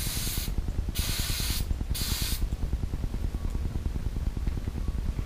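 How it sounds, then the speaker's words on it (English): Two short bursts of WD-40 spray hiss close by on a 2003 Mustang Cobra hood latch over a rhythmic mechanical rattling, which keeps going after the spraying stops. "You could spray that in there. Then spray the WD-40 in there."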